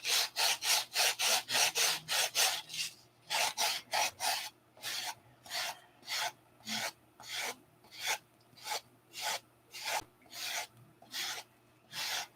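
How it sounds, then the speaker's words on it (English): Steady back-and-forth rasping of sandpaper on wooden ribs, sanded by hand, strokes fast at first then slowing into an even rhythm, close and fairly quiet. "We got 15 people watching me sand ribs."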